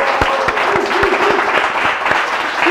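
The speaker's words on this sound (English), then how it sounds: "A round of applause once again." Steady applause from a group fills the space, dense clapping with a few sharper individual claps standing out, continuous and fairly loud.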